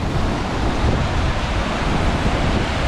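River water rushes powerfully through a channel beneath a crossing near a salmon ladder in Settle, North Yorkshire, a dense, continuous roar close to the microphone, blended with wind buffeting and no speech.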